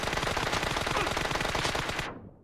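A video game team deathmatch produces a loud, rapid burst of automatic gunfire that rattles continuously for about two seconds before cutting off abruptly.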